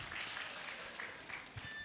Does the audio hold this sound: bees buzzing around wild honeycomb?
no